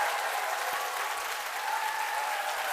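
A seated crowd at a talk breaks into sustained applause, a dense, even wash of many hands clapping at once that stays at a steady, moderate level throughout.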